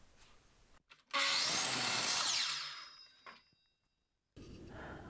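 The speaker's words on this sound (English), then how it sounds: "I'm simply just going to do that on the miter saw" A miter saw set to a 4-degree angle trims a hair off the end of a wooden tenon: a brief motor whine rising into a loud, bright cut of about two seconds that winds down and stops.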